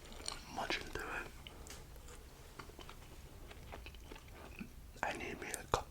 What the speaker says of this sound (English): Munching through it.